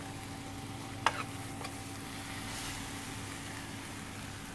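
Vegetables seasoned with garlic and fleur de sel frying in a pan: a quiet, steady sizzle with a single clink of a utensil near the start.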